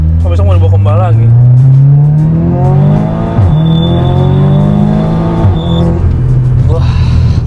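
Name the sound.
Audi S3 Quattro Stage 4 car accelerating loudly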